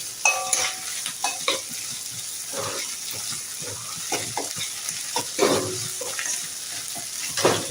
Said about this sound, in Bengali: হাফ চামচ আদা বাটা দিলাম।